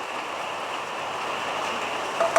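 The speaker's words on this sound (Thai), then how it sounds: "ฝนกับมา" Steady rain falling outdoors, an even, continuous hiss of drops at moderate loudness with no voices.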